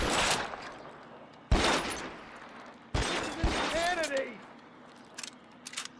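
Gunfire in the L.A. Noire video game, a few loud abrupt shot bursts a second or so apart, with a fading whistling tone and faint clicks afterward.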